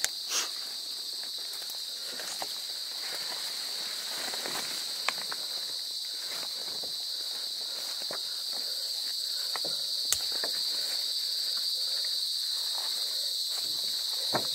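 Crickets chirp steadily outdoors at night in the Philippines, a continuous high-pitched trill carrying at an even level throughout, with occasional soft rustles and taps nearby and no talking.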